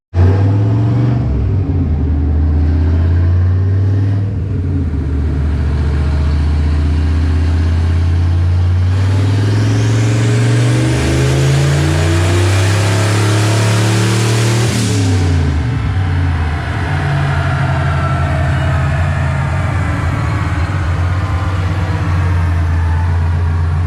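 Stock-block turbocharged 88 engine in a car on a dyno, revving loudly and close up, pitch climbing steadily through a long pull then dropping back to a lower steady drone, with no talk.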